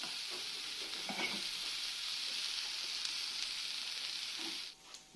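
Vegetables seasoned with salt and pepper fry in a pan with a steady, close, bright sizzling hiss. Occasional soft knocks come from stirring, and the sizzle fades near the end.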